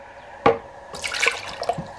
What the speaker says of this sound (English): you add a 1/2 cup of water.